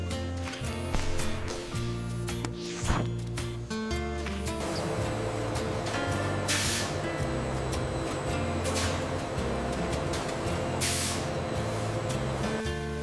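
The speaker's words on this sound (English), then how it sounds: "Some are inflated with air to reveal weak points." Rubber gloves inflated with compressed air in a factory to reveal weak points: a steady hiss of air runs throughout, broken by several sharper loud bursts, over constant machinery hum and background music.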